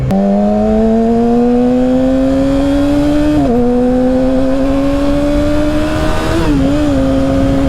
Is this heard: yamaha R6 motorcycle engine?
yes